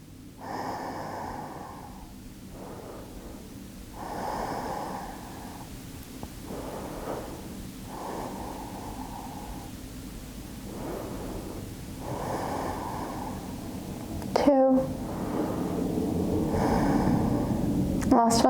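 Slow deep breathing of people holding a yoga pose in a wheel pose class, long audible inhales and exhales repeating in an even rhythm with a brief rustle near the end, no speech.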